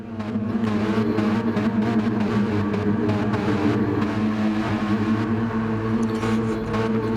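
Race car engines revving at a race start in a racing league video game, a loud steady multi-car engine drone with layered tonal whine and fluttering revs, no talk.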